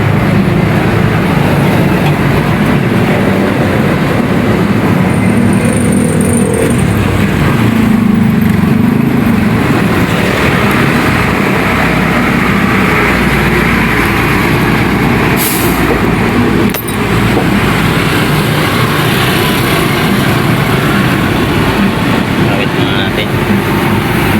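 A repaired engine, apparently a motorcycle's after work on its ceramic stator, runs with a loud, steady rumble throughout, while someone talks over it.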